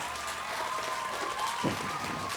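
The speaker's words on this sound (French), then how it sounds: "j'aimerais qu'on applaudisse bien fort mon ami Adama Daou" Audience applause at a live event as an artist is introduced, a steady broadband patter of many hands clapping that holds evenly through the moment, with a faint voice briefly rising near the end.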